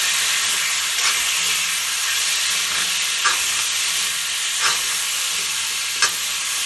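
Kohlrabi and catfish curry frying in a pan in an Assamese home kitchen gives a steady, close sizzling hiss. Faint scraping stirs come through now and then, and no one speaks.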